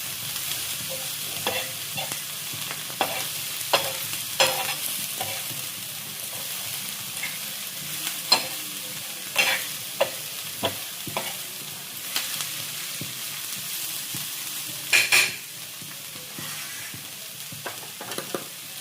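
Onions for onion chutney fry in a pan with a steady loud sizzle, while a spoon stirs them in irregular scraping clicks throughout.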